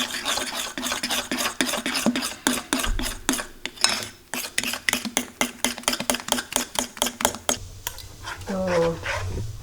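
Pancake batter mixed with melted butter is stirred by hand with a utensil scraping against a bowl in a fast, regular rhythm of close, crisp strokes, while a voice talks briefly and a dog barks faintly.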